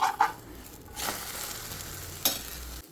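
An egg frying in a pan hisses and sizzles steadily up close, with a few sharp scraping clicks as a spatula works under it and turns it over.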